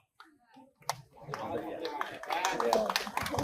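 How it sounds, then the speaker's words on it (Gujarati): School children at a Narmada school admission festival break into applause that builds from scattered claps to a dense burst, with children's voices and talking mixed in. "અહીંયા આવતો ચાલ, જોરદાર તાળીઓ થઈ જાય।"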